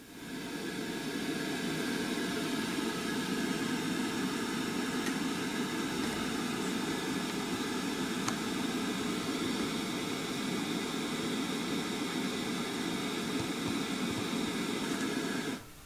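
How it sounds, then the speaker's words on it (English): Pink noise from a synthesizer noise generator module gives a continuous, fuller hiss weighted toward the lower range. It sounds like a steady rushing roar that holds constant for the whole stretch, then cuts off sharply at the end. "Now let's switch to the pink noise."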